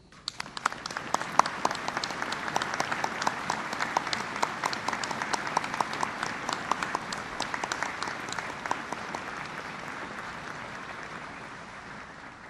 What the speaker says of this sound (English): please join me in recognizing our Veterans National Leadership with your applause